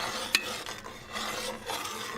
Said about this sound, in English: Kind of crumble it in there and just go back and just stir it in good while it's still cooking up.